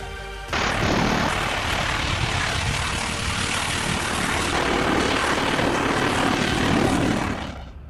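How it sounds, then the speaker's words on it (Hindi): A MiG-29 fighter jet takes off from the deck of the aircraft carrier INS Vikrant, its engine bursting in loudly after a brief quiet start and holding a powerful, sustained roar that fades slightly at the end. "जब विक्रांत के रनवे से MiG-29 विमान ने टेक ऑफ किया तो देखने वाले रोमांच से भर उठे"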